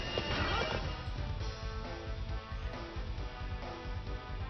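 Horse neighing and clip-clopping hooves in the Hyrule Warriors video game on Wii U, steady and fairly loud over dense game music and effects, with no talk.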